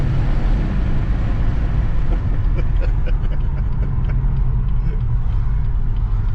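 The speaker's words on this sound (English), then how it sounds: "listen to that 6-cylinder roar" Tuned stage 2 BMW M140i with a B58 six-cylinder engine roaring under hard acceleration, a loud, constant deep rumble heard from inside the cabin, with a voice faintly underneath.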